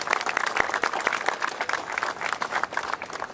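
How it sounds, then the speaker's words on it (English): An audience gives a round of applause at a San Antonio event honoring the military, steady clapping from a crowd heard at moderate distance, fairly quiet but continuous. "Let's give them a round of applause."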